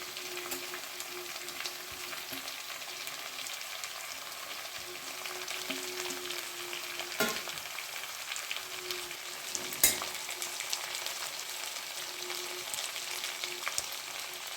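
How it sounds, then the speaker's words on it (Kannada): Vegetables for upma fry in a pan, a quiet, steady sizzle with occasional scraping and clinking stirs, heard close and alone. "ಉಳಿದ ಎಲ್ಲ ತರಕಾರಿಗಳನ್ನು ಹಾಕಿಕೊಳ್ತಾ ಇದ್ದೇನೆ."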